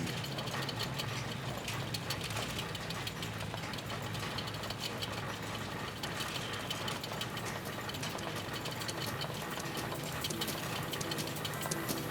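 A Victorian spinning machine at a textile mill, with flying arms twisting two slubbings into roving, runs in a steady, busy mechanical clatter of rattling gears and whirring parts, loud and continuous without pause.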